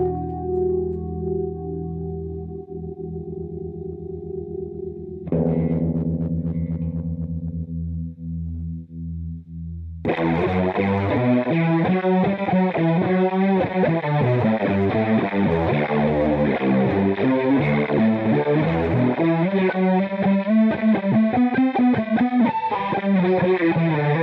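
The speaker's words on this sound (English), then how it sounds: "That's the new chorus pedal from Ampeg." An Ampeg chorus pedal processes a bass or guitar at a live NAMM clinic. A sustained, wavering note comes first, then a thicker shimmering passage, and finally loud, dense, heavily effected playing. It is close and continuous, with no talking.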